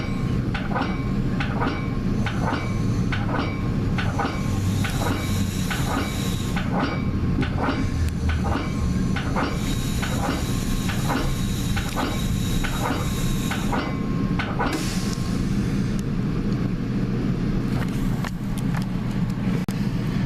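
A Metra BNSF commuter train rumbles along steadily, heard from the cab/control car, with rhythmic clicks of wheels over rail joints and a constant low roar from inside the car.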